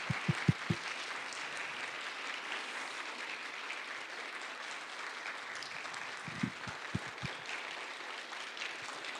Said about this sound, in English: I'd like to do that right now